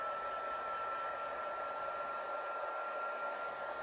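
A heat gun blows hot air for crafting work on two-toned cardstock, a steady even whoosh with a faint high whine, unbroken and close throughout.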